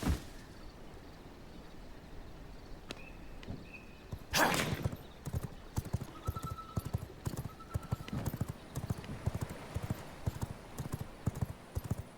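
Horse hooves clip-clopping in a V Rising game world, a steady rhythmic trot of clops with a brief whoosh and occasional chimes, fairly quiet and without talk.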